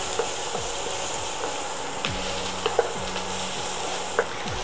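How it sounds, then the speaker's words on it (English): Onions and pepper sautéing in a pan give a steady low sizzle, with a spoon scraping and stirring through them in several soft sweeps, close and alone. "Now that my onions are nice and translucent, I'm going to add in some pepper. Give that a good stir."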